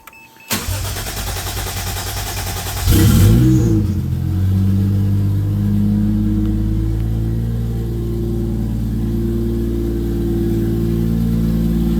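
A Mk2 Toyota Supra engine cranks briefly, catches with a loud roar, then settles into a steady, rumbling idle close by.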